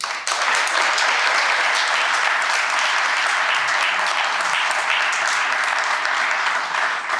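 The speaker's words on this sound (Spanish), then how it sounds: "Para todos ellos, solicito a ustedes un aplauso, por favor." Sustained, full audience applause at a book presentation, many hands clapping evenly and loudly from start to finish.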